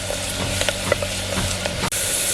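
Garlic pieces fry in hot oil in a village kitchen, a loud, dense, continuous sizzle with small crackles close by and a brief break near the end.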